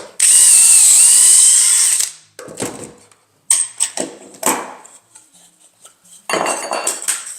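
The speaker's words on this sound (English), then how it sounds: "we'll drill our last hole" A power drill bores a dowel hole into wood through a Dowelmax jig, a loud sustained whine for about two seconds, then stops, followed by scattered knocks and clatter as the jig and workpiece are handled.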